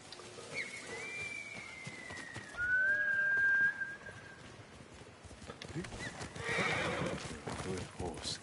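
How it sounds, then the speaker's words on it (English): Horse in Ghost of Tsushima gives a clear high whinny midway, with a softer neigh before it and hoof clatter, all among game ambience. "Good horse, Skuggy."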